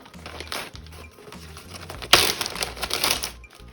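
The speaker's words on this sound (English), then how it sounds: "Use the gallon Ziploc bags." Plastic gallon Ziploc bags being handled while African violet plants are unpacked, giving crisp crinkling and rustling that grows louder and denser in the second half, with no talk.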